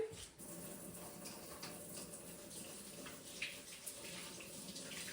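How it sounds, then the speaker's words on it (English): Tap water running steadily while hands are washed at a kitchen sink, a soft continuous wash of flowing water with faint small knocks, no talk. "I'm going to wash my hands really quickly"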